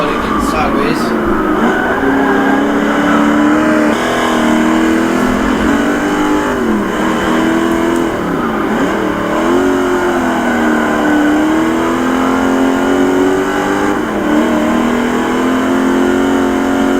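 A muscle car's mid-pitched engine races around a track, holding a steady loud drone with wavering revs as it drifts sideways through corners, close and continuous throughout.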